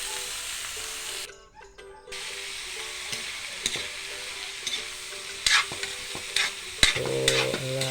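Goat innards frying with garlic and onion, stirred with a ladle in a pan: steady sizzle with scraping, clacking ladle strokes, close and loud, briefly cut off before resuming.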